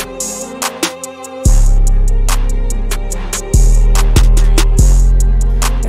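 A hip-hop beat with snare rolls, clap and hi-hat, punchy drum hits over a heavy sustained low bass that drops in after a sparse opening, loud and alone with no voices.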